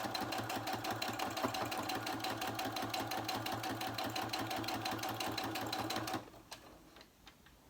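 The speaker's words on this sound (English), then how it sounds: "And I'm going to give it one more stitch just because." Sewing machine stitching a mini paper journal, a fast, even mechanical chatter running close and loud for about six seconds before stopping abruptly, leaving only faint handling noises.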